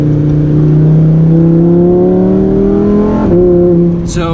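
A Lamborghini Huracan Performante accelerating hard on the road, with a loud, close engine note rising steadily in pitch, then a brief dip at a gear change before climbing again, heard from inside the car.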